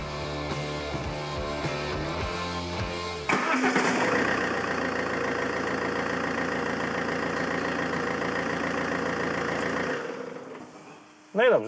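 A car engine cranks and catches after an engine mount replacement, then settles into a steady, fairly loud idle that runs for several seconds before shutting off near the end.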